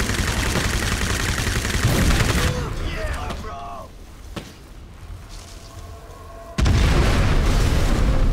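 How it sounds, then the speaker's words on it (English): In the PC game Crysis, a vehicle blows up after its gas tank is shot: loud booming blasts and gunfire roll into a fading rumble with scattered debris, then a sudden loud burst of noise returns. "I was able to sneak around, shoot it in the gas tank, and have it explode."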